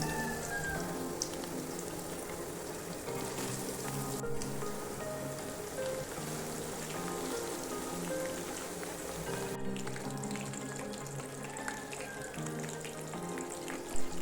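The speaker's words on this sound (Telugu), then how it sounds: "ఆయిల్ హీట్ ఎక్కాక ఈ కాకరకాయలని ఆయిల్లో వేసుకొని ఫ్రై చేసుకోవాలి" Bitter gourd slices deep-frying in hot oil in a kadai, a faint, continuous fine crackling fizz that stays even throughout, with no talking.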